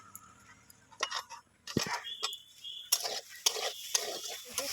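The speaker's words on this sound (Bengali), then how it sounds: "এখানে সোয়াবিনটা ভাজছি প্রচণ্ড আগুন রয়েছে নামিয়ে নামিয়ে ভাজতে হচ্ছে" Soybean chunks sizzle and crackle in hot oil over a very high flame while a utensil scrapes and clinks against the pan in uneven bursts.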